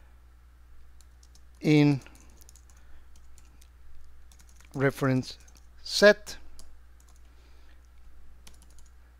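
Short bursts of computer keyboard typing sound faintly between stretches of someone talking while he builds a data dashboard.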